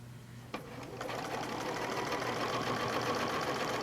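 Domestic sewing machine stitching: a couple of clicks, then a steady rapid mechanical whirr and chatter that runs close and continuous to the end.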